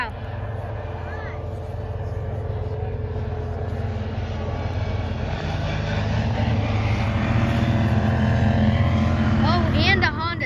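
A Honda Talon side-by-side drives past, its loud engine drone building and holding steady over about ten seconds with a rising whine near the end, while people talk over it.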